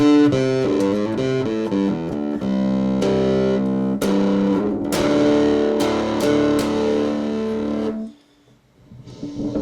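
An electric guitar through a Human Gear Animato distortion pedal plays a loud riff with gritty, saturated tone, then drops off near the end.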